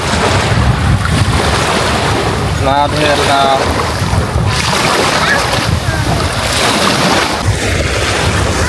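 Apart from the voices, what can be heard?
sea waves at the beach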